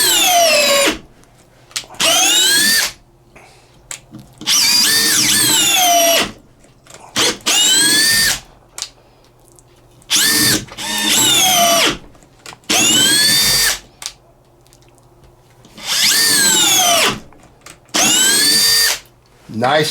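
A Makita 18V compact drill drives screws in about eight sharp whirring bursts, each rising in pitch, with short quiet gaps between them, loud and close.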